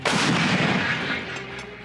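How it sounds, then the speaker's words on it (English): Howitzer artillery cannon fires in news footage of weapons in action in Ukraine, one loud, deep boom that rolls out into a decaying rumble, with no voices. "howitzer artillery cannons"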